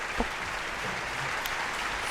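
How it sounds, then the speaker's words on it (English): Steady, dense applause in a Minecraft game, a continuous wash of many clapping hands at moderate level with no voices, holding evenly for about two seconds. "Dude, they're applauding."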